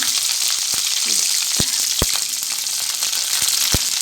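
Curry leaves dropped into hot oil with mustard seeds and chana dal for a tamarind okra curry, a loud, bright steady sizzle peppered with sharp popping crackles, no talking.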